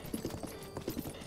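Horse hooves clip-clop faintly at a steady riding pace in the video game Zelda: Breath of the Wild, in a short run of quick, soft thuds.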